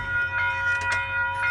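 A Metro-North deadhead equipment move bound for Grand Central passes at Peekskill, giving a steady, loud rolling rumble with a sustained tonal hum and faint rail clatter throughout.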